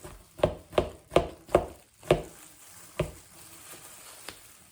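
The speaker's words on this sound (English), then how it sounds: "I had 1 cucumber, and I'm just divvying it up" Knife chopping a cucumber into portions on a board, six or so sharp, evenly spaced cuts close up, then slower, fainter taps trailing off, with no talking.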